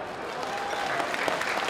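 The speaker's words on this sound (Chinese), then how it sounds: "我们是不是用热烈的掌声感谢我们第十四届的团队，好不好？" An audience at an anniversary gala evening for a Tainan early-morning swimming club applauds warmly, dense clapping building slightly over a couple of seconds.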